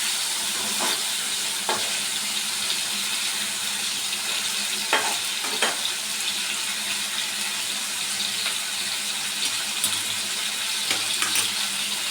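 Pomfret fish frying in masala in a pan, a loud continuous hiss of oil with occasional sharp crackles and pops throughout.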